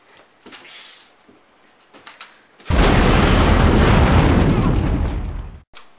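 A martyrdom grenade blows up in Call of Duty 4 multiplayer, a loud, sudden blast that roars for about three seconds after some quieter game sounds.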